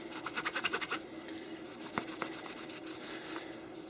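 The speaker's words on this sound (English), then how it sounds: "I'm going to go and take a clean dry towel and just wipe off the excess." A clean dry towel rubs excess lubricant off an HK45 pistol, producing close, quick scratchy strokes that come in a rhythmic burst and then turn into lighter intermittent wiping.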